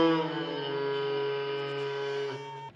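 Minecraft goat horn playing its 'Dream' call: a single sustained, reedy horn tone holding a steady pitch for over two seconds, then cutting off abruptly with a brief fade.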